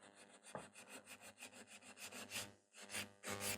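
Nail file rubbing back and forth across a fingernail while shaping it, a soft close rasping in quick repeated strokes with a brief pause near the end.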